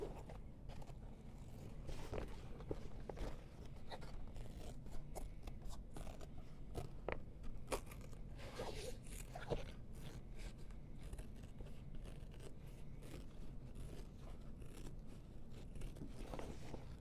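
Scissors trim excess fabric from a sewn seam, giving soft repeated snips and scraping close by over a quiet, steady background.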